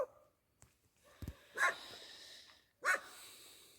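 A small, timid stray dog at an abandoned house gives two sharp, separate barks a second apart, close and fairly clear, after a few faint shuffles and clicks, with no talk.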